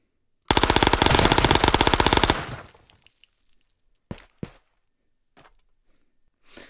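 An MP9 submachine gun in the video game Ghosts of Tabor fires one long rapid burst of loud, evenly spaced shots, then a fading tail followed by a few scattered clanks and clicks.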